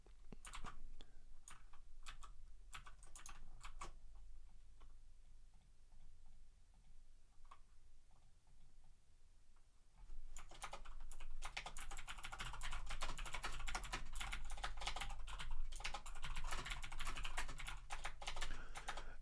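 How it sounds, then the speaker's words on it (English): Clicks of a computer keyboard in a home live-stream setup rattle in quick irregular bursts, thin and moderately close. A quieter lull in the middle gives way to dense, rapid, louder typing. "My keyboard is also too loud for live streams, I think."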